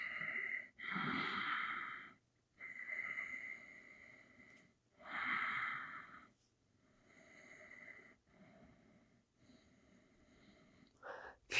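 Slow, deep breaths during a shoulder and neck stretching exercise: long, airy inhales and exhales, close and soft, separated by short quiet pauses.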